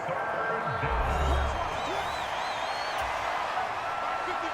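A stadium crowd roars steadily in Madden NFL 25 during a Las Vegas Raiders versus Denver Broncos game on third down, fans on their feet, with a constant wash of cheering and occasional whistles under a commentator's voice.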